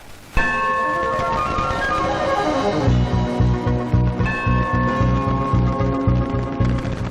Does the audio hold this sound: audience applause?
no